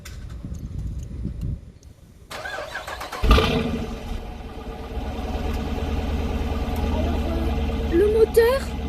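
A 2014 Dodge Durango RT with a 5.7 Hemi V8 cranks and fires up partway through, then settles into a steady, rumbling idle, while someone talks over it.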